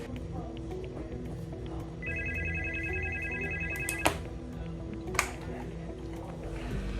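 A telephone rings in a hospital ICU, one short electronic double-tone burst partway through, set against steady room hum, clicks and a couple of sharp knocks, with faint background voices.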